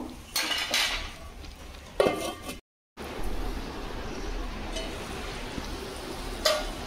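A pot lid clanks onto a cooking pot of simmering hilsa and vegetables, metallic clinks near the start and middle over a steady kitchen bustle, with a brief dropout.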